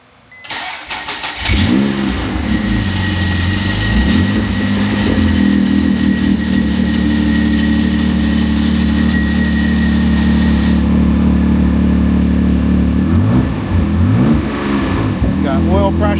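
A twin-turbo Honda NSX that has sat unused cranks briefly, then catches and settles into a loud, steady cold-start idle close by, rising slightly near the end, with voices faint underneath.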